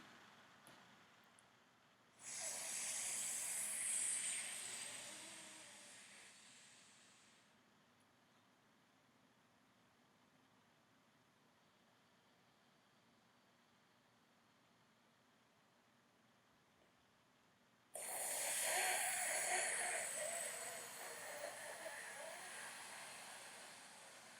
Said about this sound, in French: ce sera une aspiration de l'air pendant l'inspire avec la langue pointée sur les dents